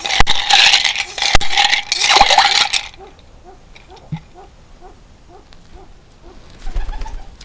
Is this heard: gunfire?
no